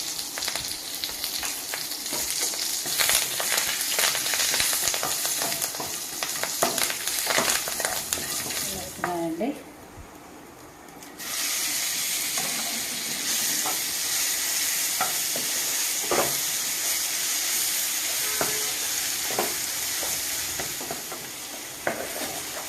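Loud, crackling sizzle of tempering spices frying in hot oil for mango chutney, with stirring scrapes and a brief quieter gap midway, heard up close.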